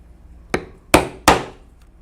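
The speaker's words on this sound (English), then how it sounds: "we will also need to punch holes for the lacing. It will also be a round drive punch." Round drive punch struck through leather with a hammer, three sharp close knocks in quick succession, the last two louder, with no talk.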